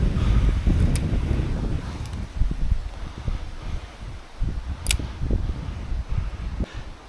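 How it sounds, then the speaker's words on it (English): Strong wind gusts buffet the microphone at a fishing spot at sunset, a steady low roar that swells and dips, with a few faint high ticks and no talk. "it is so windy this evening."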